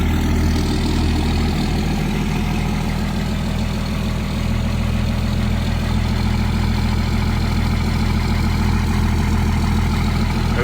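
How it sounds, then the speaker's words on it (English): A Dodge Power Wagon, parked for 30 years and now fitted with new injectors, idles steadily with a low, continuous engine rumble that holds at an even level throughout. "It actually starts way better with the new injectors."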